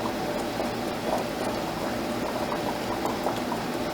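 Jar lids simmer in a pot of boiling water, a steady close bubbling and fizzing with small pops throughout, no voices.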